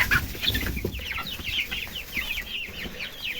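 Chicks cluck and chirp in a steady busy chatter, close by, with soft rustling underneath and no talking.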